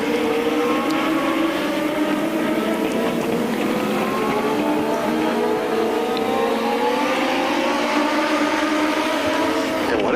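A pack of Legend race cars roars around an oval track late in a main event, with several engines droning and rising and falling in pitch as they pass close by, the loud blended whine continuing without a break.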